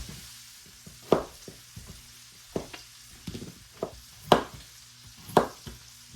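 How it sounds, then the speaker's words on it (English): Potatoes cut into cubes on a board, with a series of irregular knife taps and thuds, fairly close and quiet, over a low background hum with sizzling nearby. "we go ahead and peel and cube our potatoes to get them in after the onions"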